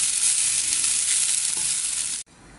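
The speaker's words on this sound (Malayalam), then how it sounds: "എന്നിട്ട് ഇത് എല്ലാം ചേർത്ത് ഒന്ന് വറുത്തെടുക്കുക" Garlic and spices fry in a hot pan for a pork dry fry masala, giving a loud, steady hiss and sizzle that cuts off abruptly near the end.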